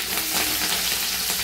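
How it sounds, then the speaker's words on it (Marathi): Garlic and green chili fry in hot oil in a wok, giving a dense, continuous close sizzle with no talk over it. "कढईमध्ये गरम तेल करत ठेवले. त्याच्यामध्ये आता आपण लसूण टाकले"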